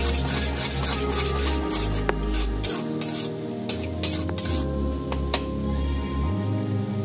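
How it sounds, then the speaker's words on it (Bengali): Turmeric, chili powder and coriander powder are stirred and fried in a pan, with a utensil scraping steadily across the metal surface in continuous close rubbing strokes and an occasional light clink. "এবার ভালো করে আমি কষিয়ে নেব।"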